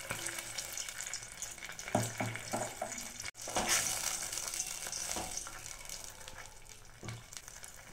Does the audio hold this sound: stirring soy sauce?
yes